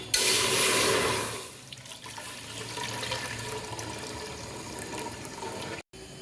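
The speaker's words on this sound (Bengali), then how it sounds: "এখন দিয়ে দিচ্ছি লিকুইড মিল্ক।" Liquid milk poured into a well-heated cooking pot, starting with a loud rushing splash that eases after a second or so into a quieter, continuing flow, with a brief cutout near the end.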